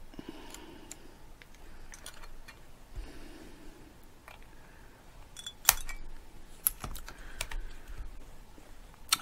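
Wires of an RDA vape coil (Wotofo Serpent BF) being snipped with cutters, several sharp metallic clicks scattered among quiet handling and fiddling noises, close up and without talk.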